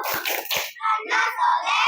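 A group of children do the tepuk anak soleh clapping chant in a classroom: two sharp claps, then loud, rhythmic shouted chanting in unison.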